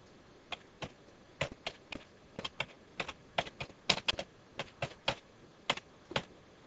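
Someone types a folder name on a computer keyboard, producing a string of distinct, close key taps in an uneven rhythm, with about twenty clicks heard alone against a quiet room.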